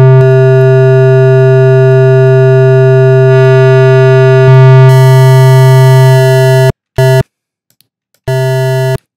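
A steady, buzzy sine wave tone distorted by a wave shaper, rich in harmonics, loud and continuous, then cutting out in short bursts with brief silences between.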